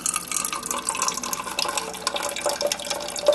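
Water running and filling through a newly installed GE refrigerator water valve, a soft steady trickling flow with small drips and splashy bursts, fairly quiet and close, with no talking.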